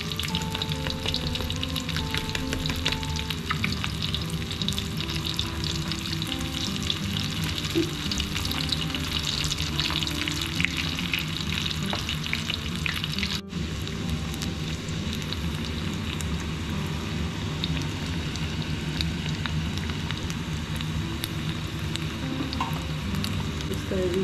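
Homemade sushi fries in hot oil with a steady, continuous sizzle and crackle that stays fairly even for about twenty-four seconds, heard up close at moderate volume.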